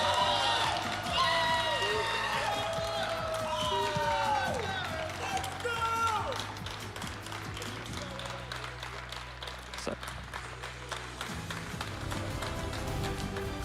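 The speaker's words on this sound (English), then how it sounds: "everyone, a huge round of applause for Christian Fontenot!" A crowd at the 2024 Pokémon TCG Stuttgart Regional Championships cheers and claps, with whoops and excited voices rising at first, then settling into steadier applause and shuffling.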